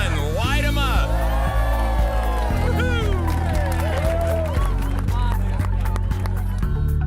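Crowd cheering and whooping outdoors in a downtown street as a new canopy of bistro lights is switched on, loud and sustained with shouts and steady music underneath, voices mixed throughout.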